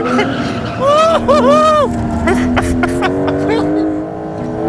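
A Porsche 911 Turbo S drifts, its engine note rising and falling with revving sweeps and tire noise, close up and mixed with talking.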